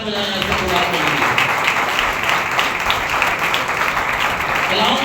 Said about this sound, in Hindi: आज जोरदार तालियां बजाएं खुदा के लिए।